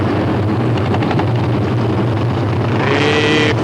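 A race car at Knoxville Raceway in 1984 rumbles close by, its engine cackling and popping in quick bursts over a loud, steady roar.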